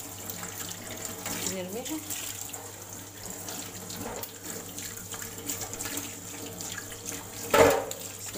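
Kitchen faucet water running steadily into a sink while a large turkey is rinsed under it, a continuous close splashing stream with brief clatter, and a person speaking over it.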